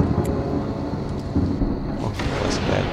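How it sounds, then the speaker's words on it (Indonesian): Thunderstorm in the survival game Stranded: Alien Dawn, with a steady rumbling wash of rain and low thunder filling the scene at moderate loudness, no voices over it. "Oh, thunderstorm."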